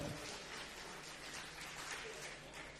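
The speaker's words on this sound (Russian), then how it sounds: "Аплодисменты бойцам, друзья." Applause for the fighters after a submission win by chokehold in the first round of a no-rules bout, a steady dense wash of clapping from a distant crowd for the whole stretch, with no voices rising above it.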